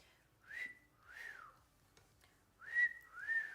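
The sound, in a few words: person whistling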